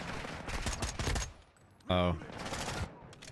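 Gunfire in the shooter Modern Warfare 2 crackles through the clip around loud speech, with a brief exclamation from the player.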